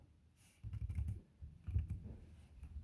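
Quiet, close tapping of keys as numbers are entered into a calculator, a few soft clusters of presses with short pauses between them.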